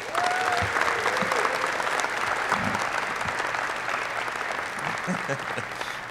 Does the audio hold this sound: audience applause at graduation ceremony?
yes